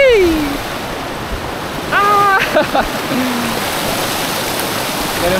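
A river flowing at the base of Mt. Ena gives a steady, broadband rush of water throughout, with people talking and cheering over it.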